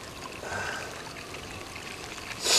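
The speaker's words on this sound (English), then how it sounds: "Pee into my water bottle here." A steady stream of urine pours into a water bottle outdoors in the snowy Scottish wild, a soft continuous trickle and hiss lasting a couple of seconds, ending in a brief louder rustle.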